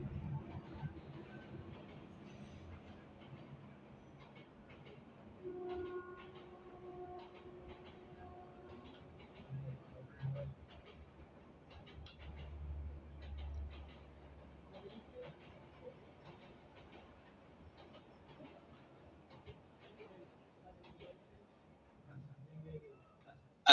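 A train rumbles past nearby with low, steady rolling noise and faint clattering throughout, while people talk over it in the background.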